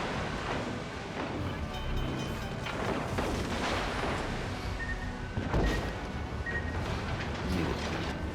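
Secondary guns on warships firing in a World of Warships Legends match, Graf Spee against Dunkerque, a dense roar of booming shots and rumbling blasts over constant sea and wind noise.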